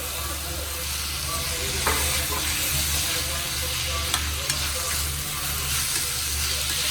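Green chillies and chopped tomato sizzle and fry steadily in a pan, with a continuous oily crackle, a low hum underneath, and a few brief clinks of stirring.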